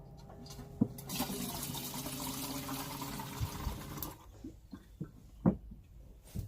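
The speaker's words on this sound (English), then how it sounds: "Running water." Water gushes from a kitchen tap in a converted van for about three seconds, loud and close, then stops, followed by scattered clunks and taps.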